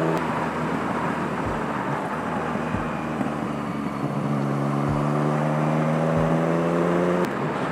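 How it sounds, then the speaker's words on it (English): A motorcycle's exhaust putt-putts while riding a winding ghat road in the hills near Chikmagalur, a close, steady engine drone with a rising tone and a few dull thumps. "exhaust is putt-putting from that time"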